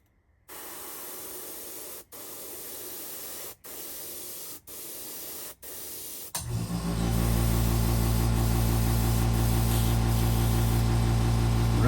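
Spray paint hisses onto a craw-pattern fishing lure in several short bursts with brief gaps, then settles into one long continuous spray, close and steady.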